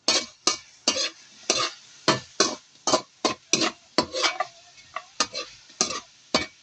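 A utensil stirs pinakbet vegetables in a pot, making a run of about sixteen sharp scraping knocks at a fairly regular pace, close and clear over a quiet background.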